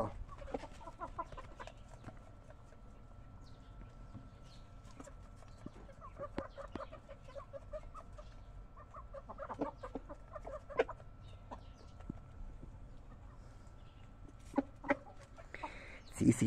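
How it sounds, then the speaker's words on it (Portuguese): A rooster clucks softly and repeatedly to call a hen on a farm, irregular low clucks over a constant rural background hum, with a few louder calls near the end. "Chamando a galinha carinhoso."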